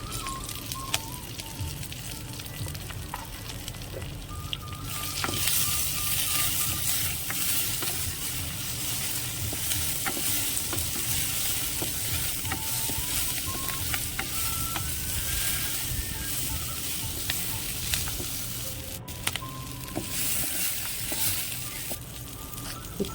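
Green chillies and mint sizzle in hot oil for a chicken gravy curry, with a constant crackling fry and occasional scrapes of stirring. A soft melodic background tone plays throughout, and no one speaks.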